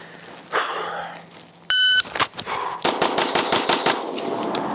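A Dan Wesson DWX pistol fires a rapid string of seven sharp, loud shots in quick succession, preceded by a short electronic beep from a shot timer.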